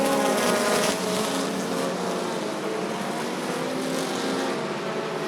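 Race cars roar around the oval at Rockford Speedway during a bracket feature, a dense continuous engine howl with passing surges, heard from trackside and without speech.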